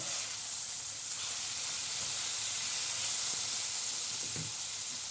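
A continuous hissing sizzle of peppers frying in hot oil, steady and close, with faint occasional pops and no talking.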